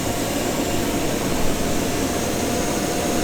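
A blower for a purplish dual-lane inflatable bounce house combo runs with a constant, loud, broadband whoosh and drone. It stays even and unbroken throughout, with no voices.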